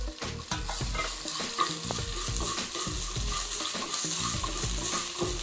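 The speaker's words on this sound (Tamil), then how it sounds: "இப்போ இந்த ஸ்டேஜில் அந்த துருவனை இஞ்சி போட்டுடுங்க." Grated ginger hits a hot tempering of lentils, green chillies and curry leaves for curd rice, a steady close sizzle with repeated scraping stirs of a spoon against the pan throughout.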